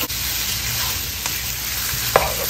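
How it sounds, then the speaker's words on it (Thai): Beef sizzles and crackles as it is stir-fried in a wok filled to the brim, a dense continuous frying hiss with occasional scrapes and clatters of a utensil, close and loud. "เอาเนื้อเข้าไปลวนก่อนเลยนะคะ ฉันผัดเยอะนะคะ ผัดเต็มกระทะเลยค่ะ"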